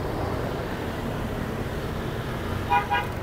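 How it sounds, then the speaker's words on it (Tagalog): A vehicle horn honks briefly in busy traffic on a dusty road crowded with trucks, two short toots near the end over a steady roadway rumble. "Busina naman to ng busina"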